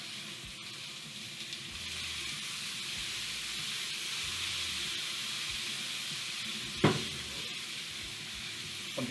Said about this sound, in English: A little bit of balsamic vinegar here to cook in some neat flavor.